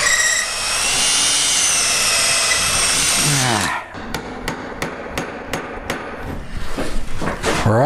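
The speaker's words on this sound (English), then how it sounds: "Let's get the auger bit on that. Try and get through as straight as I can." A power drill with an auger bit bores through a wooden slotted gate post, whining steadily under load before it breaks through, followed by a series of sharp knocks and clattering as the bit is freed.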